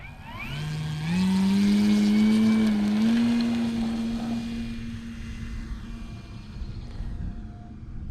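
Small buzzing engine of a HobbyKing Big Red Stearman RC model biplane revs up to about three-quarter throttle for takeoff, holding a steady high whine that fades as the plane pulls away into the distance.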